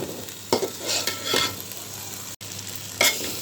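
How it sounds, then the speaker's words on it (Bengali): Rice for biryani fries in a pot with a steady, close sizzle, while a spoon stirs it in several distinct scraping strokes. "চালটা আমি ভালো করে ভেজে তারপরে জলটা দেবো"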